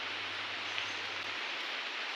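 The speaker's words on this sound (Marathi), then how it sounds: "या महिन्यात अजूनही पाऊस पडता" Steady rain falls in a Konkan village in Sindhudurg, Malvan, during a Tulsi wedding, a constant soft hiss with a low hum underneath for the first part.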